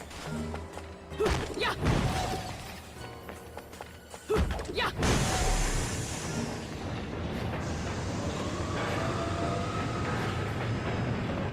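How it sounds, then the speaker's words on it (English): A train in the Bayonetta video game starts off with heavy metallic clanks and thuds, then settles into a loud, continuous rushing rumble and hiss that carries on steadily, with no speech. "The train is leaving."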